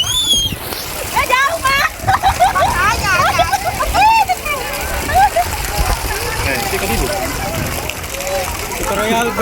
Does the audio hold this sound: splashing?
yes